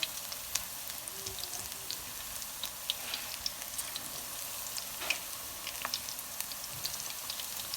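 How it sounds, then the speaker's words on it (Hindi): Mixed vegetable pakoras fry in hot oil with a steady, dense sizzle and crackle throughout, close and even, with no talking. "तो ये एक साइड जो है फ्राई हो चुकी है और दूसरी फ्राई हो रही है"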